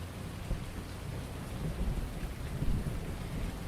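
Steady rain falls outside in a dense, continuous hiss, with low rumbling swells underneath and no talk.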